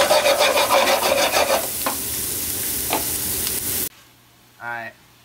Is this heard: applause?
no